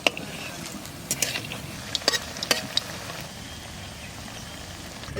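Soya chunk kofta balls fry in oil in a home kitchen, giving a steady low crackling sizzle with several sharp clinks and stirring taps scattered through the first few seconds.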